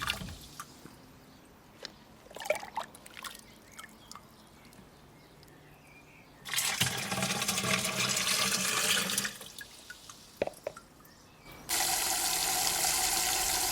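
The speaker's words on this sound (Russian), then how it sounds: "Лейку наполняю водой доверху." Water from a tap pours into a 12-litre garden watering can in two strong, sustained rushes, with quieter drips and knocks between them and a renewed steady gush at the end.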